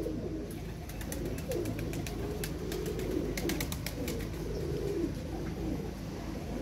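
Slate-grey pigeons coo close by in soft, repeated throaty rolls over a low background rumble, with bright faint clicks and chirps scattered through, no voices.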